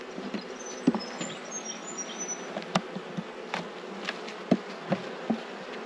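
Honey bees from a rescue hive hum and buzz around an open hive, a steady close drone with individual bees zipping past the microphone now and then, no talking.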